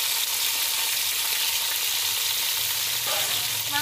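Chicken pieces fry in a small amount of oil for biryani, giving a loud, continuous close-up sizzle that holds steady throughout, with a brief bubbling flutter near the end.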